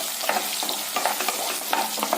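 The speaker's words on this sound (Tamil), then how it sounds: "நல்ல செவக்க வறுத்துக்கலாங்க சின்ன வெங்காயத்தை இந்த எண்ணெயில." Small shallots frying in hot oil for Coimbatore-style chicken fry, a dense close crackling sizzle with rhythmic scraping stirs of a ladle throughout, no voices.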